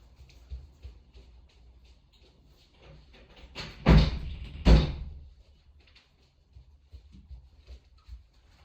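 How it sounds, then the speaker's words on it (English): An indoor door is pushed shut on a windy day with two close thuds about a second apart, the second slightly sharper, standing out against a quiet background. "It's just a bit windy, I might close that door."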